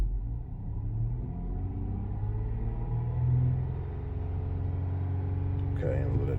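A Dodge Journey engine idles with a steady low rumble after new spark plugs and coils, running smoothly with a slight swell in the middle before settling back.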